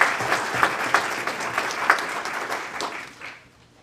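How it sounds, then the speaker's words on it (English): An audience at the 2019 Magic City Classic press conference in Birmingham applauds honorees, a lively burst of many hands with sharper individual claps standing out, holding steady before tapering and fading away over the last half second. "let's give them a round of applause"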